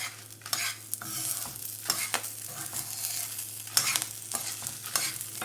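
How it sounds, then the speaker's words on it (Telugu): Curry leaves crackle and sizzle in hot oil with fried moong dal in a pan off the heat, with scattered sharp pops and stirring scrapes over a low steady hum. "ఈ వేడికి ఇది వేగిపోతుంది కరివేపాకు అన్నది."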